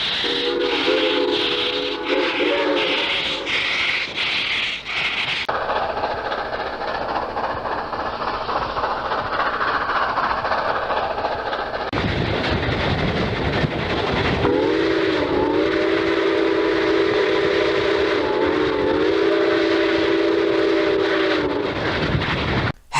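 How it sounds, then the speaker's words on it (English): A model steam train chugs steadily along while its whistle sounds in long, loud blasts, with changing rumble and clatter from the moving cars. "they coupled up to the train and they set off for Tidewater"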